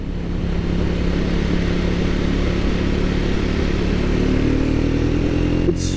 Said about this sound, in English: What a nice engine on this bike